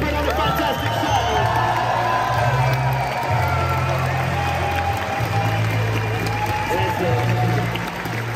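An audience at a fight-night combat event at a juggling convention in Ovar applauds and cheers for the second-place finisher, dense sustained clapping with whoops under an announcer's amplified voice.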